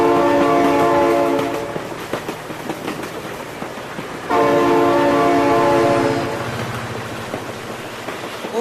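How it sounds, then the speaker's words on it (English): Video game train rumbling past with two long, loud horn blasts separated by a short gap, over a steady rolling rail noise in a trucks game. "Oh my god, train!"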